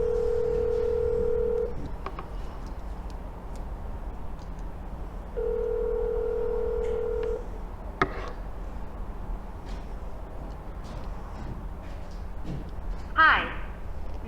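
Two long telephone tones sound, each held for about two seconds with a gap between them, followed by short dialing tones on a phone calling back a classic car dealership, with quiet talk in between.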